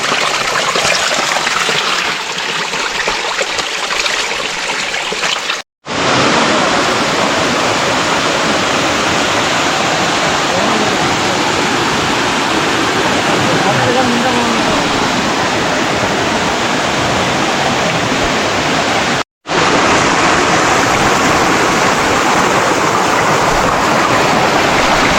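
Mountain stream on the Agasthyarkoodam trail rushing loudly and continuously, a dense close roar of flowing water broken by two brief silent cuts.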